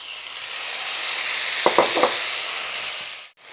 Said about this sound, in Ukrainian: А далі підсмажуємо м'ясо на сковорідці